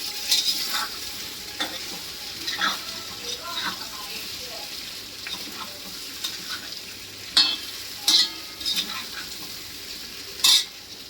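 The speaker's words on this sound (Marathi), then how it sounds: "तळून घ्यायचं आपण." Bottle gourd muthia frying in a pan, a soft sizzle under repeated clinks and scrapes of a spatula against the metal, with a few louder knocks near the end.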